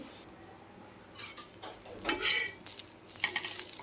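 Ghol leafy greens are dry-roasted and stirred in a pan, with soft intermittent scraping, light clinks of a utensil against metal and a faint hiss, quiet and close.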